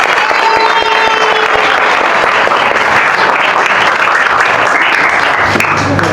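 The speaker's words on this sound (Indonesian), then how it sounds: "Kita beri aplaus untuk kita semua." A classroom of students claps together, a dense, loud, steady round of applause that carries on evenly for several seconds.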